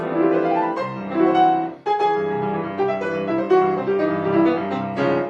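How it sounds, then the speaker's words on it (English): Piano plays a sequence of dissonant Prokofiev dominant chords from the fourth sonata's last movement, with ringing sustain, struck in a halting rhythm, close and clear, no talking. "so-called Prokofiev dominant chord"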